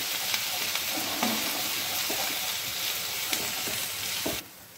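Green chili, two small cardamom pods and a paste fry in a pan for an egg masala curry, giving a close, even sizzle with occasional stirring clicks until it suddenly quietens at the end.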